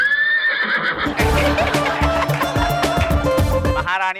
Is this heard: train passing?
no